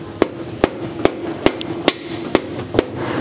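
An RB26 engine's main girdle is tapped forward with a hammer to set crankshaft thrust clearance. Seven sharp metallic taps land at an even, steady pace, close and distinct over a quiet workshop background.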